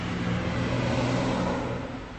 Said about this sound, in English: Trucks are loud.